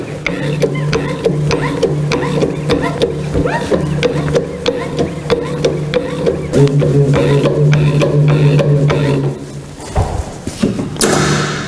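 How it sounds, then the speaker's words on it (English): A manual drum tipper raises a slippery plastic drum with continuous mechanical clattering and rattling, broken by dull thumps. A louder scrape and knock come near the end. "we'll lift the drum up to the height of the container and we'll tip it in."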